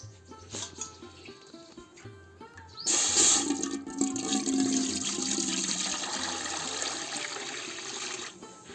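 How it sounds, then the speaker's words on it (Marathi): Water pours steadily into a metal cooking pot for biryani rice, a loud continuous splashing stream that starts abruptly and runs on, with faint kitchen clatter before it. "टोपात आता करूचो असा भात आणि त्यासाठी आधी आपल्या पाणी ओतायचं लागतं"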